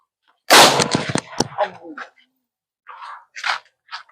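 A homemade boga pipe cannon fires with one loud, close blast, followed by rattling debris and crackle, then a few fainter bursts of noise trail off.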